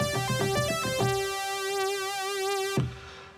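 Studiologic Sledge synthesizer lead with a bright, buzzy tone: quick staccato notes, then one long sustained note with vibrato that cuts off sharply.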